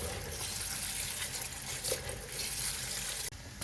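Rice with added salt being washed in water, a steady close splashing and swishing that runs continuously before a brief drop near the end.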